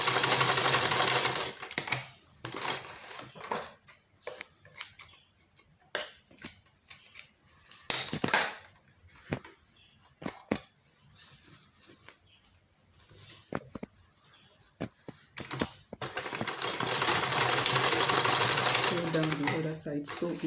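A sewing machine stitches the fabric of a simple short knicker, running in steady bursts at the start and end with stops and clicks between, close and loud.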